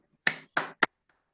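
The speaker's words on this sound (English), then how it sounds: "let's all welcome with our virtual applause Toastmaster Alex Phillip" Three quick finger snaps offered as virtual applause during an online Toastmasters club meeting, crisp and close, the last one shortest, with silence between them.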